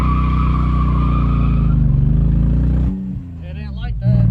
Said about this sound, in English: It's misfiring so bad.